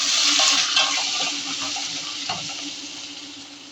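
Onions frying in oil in a pan for a mixed mutton, chicken and prawn biryani, a steady loud sizzle that eases slightly over time, with light stirring clatter throughout and no voices.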